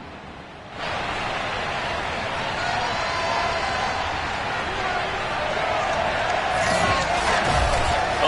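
A packed NFL stadium crowd roars steadily ahead of a Detroit Lions game against the Cleveland Browns, with fireworks and pyrotechnics set off. The dense, sustained roar swells after a quieter first second and holds loud throughout, with no talk.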